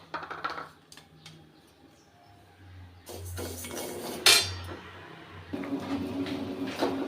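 Sago pearls are roasted in a pan with a metal utensil, making intermittent scrapes, clinks and clatter against the pan, some close and sharp, with quieter gaps between bursts of stirring.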